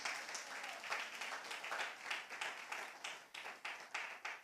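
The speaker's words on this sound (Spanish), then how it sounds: "Vamos a darle el aplauso al Señor." A church congregation claps steadily for the Lord during a Spanish-language service, the rhythmic applause filling the room at a soft, even level.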